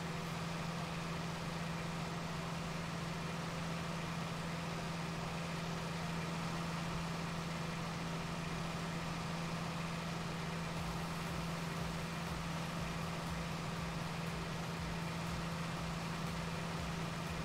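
A blue tractor's Perkins engine idles steadily in a farming video game, a constant low mechanical drone with a strong low hum that holds even and unbroken throughout.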